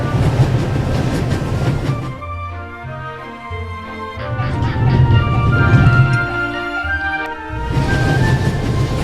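A train races at full speed in the video game The Ravel, with a loud, continuous rumble and rattling clatter, wind-like roar and metallic tones that swell and recede.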